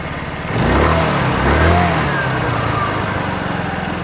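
A 50cc petrol scooter engine runs close by, its revs rising and swelling as the RPM is adjusted, then settling into a steady buzzing drone, with no talk.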